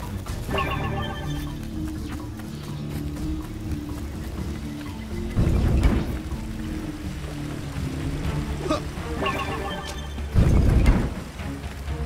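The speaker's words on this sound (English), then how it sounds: "I break pots" Clay pots smash in a Spider-Man video game, two heavy crashing bursts standing out over a steady droning game backdrop with repeating tonal chimes.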